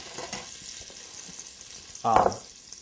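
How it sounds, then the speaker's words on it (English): Butter browns in a pan with a soft, continuous sizzle and faint bubbling close by, cut briefly by a louder scrape or clatter near the end. "First thing I'm going to do is start out with some butter. And I'm going to let it slightly brown."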